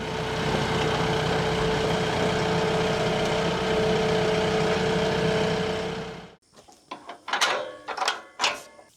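A tractor engine idling at a building site, a steady loud low rumble with a constant hum that cuts off abruptly, followed by a few separate clanks and knocks.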